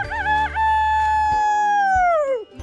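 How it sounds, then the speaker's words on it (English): A pet chicken crows loudly and close by, one long drawn-out cock-a-doodle-doo that wavers and then slides downward before cutting off, with no talk over it. "Well, what is she crowing about?"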